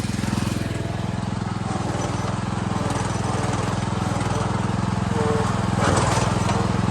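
An old junk lawn mower's engine drones steadily and close up, labouring as it pulls, its rear axles lacking weight, with a brief rougher surge near the end.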